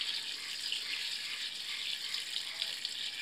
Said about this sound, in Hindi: अब इसमें ऐड करेंगे हम पानी।